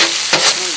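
Chopped onion frying in cold-pressed sesame oil along with finely chopped garlic, a loud close sizzle with a brief stir partway through, no talking.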